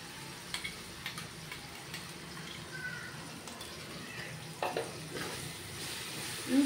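Ginger garlic paste sizzles faintly in a pan of cooked-down tomato for biryani, a low, continuous crackle broken by a few soft knocks and clatters, with a sharper scrape at the very end.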